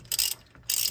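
A ratchet loosening head bolts on a car engine being rebuilt in the car, two quick bursts of close, sharp clicking separated by a short pause.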